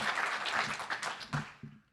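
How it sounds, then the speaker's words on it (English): Applause for high school football award winners at a touchdown club luncheon, a dense patter of clapping that thins and fades out over two seconds with a few last claps. "a round of applause for all of our high school winners for the Dan Hampton Award, McFadden Award, and Willie Rofe Award"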